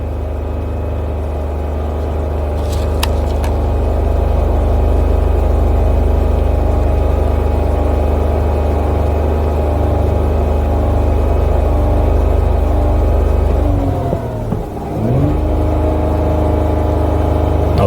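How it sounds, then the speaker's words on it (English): A Dodge Grand Caravan engine with a suspected thermostat fault runs loud and steady close by, its RPM held raised for most of the stretch before dipping briefly near the end and recovering, with no one talking. "So now I'm gonna increase my engine RPMs."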